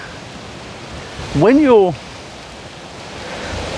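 Strong wind blows outdoors, a steady rushing roar buffeting the microphone throughout, with a brief spoken phrase in the middle.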